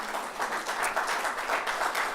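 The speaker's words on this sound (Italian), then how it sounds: "Vi invito ad accoglierlo con un applauso." An indoor audience applauds to welcome a guest speaker at a talk in Padova, a short burst of steady, fairly soft clapping from many hands.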